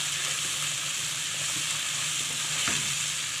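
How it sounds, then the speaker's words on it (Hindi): Garlic paste fries in a pan with a constant bright hiss, joined by a few light scrapes of stirring and one sharper clink near the end. "अब मैंने इस लहसुन की पेस्ट को भी अच्छे से भूनना है"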